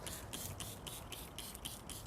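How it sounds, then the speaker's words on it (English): A ducky trigger sprayer bottle mists Diablo wheel gel generously over the face of a car wheel and tire, giving a quick, steady series of about eight short, hissing spritzes close by. "I'll grab my ducky sprayer bottle and I'm generously going to spray it all over the face of the wheel"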